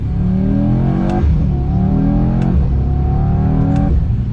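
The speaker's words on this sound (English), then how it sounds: "Downshift." A Mercedes-AMG E63S engine revs sharply in three quick downshift blips, each rising burst of exhaust snarl settling back into a steady, loud drone from inside the moving car.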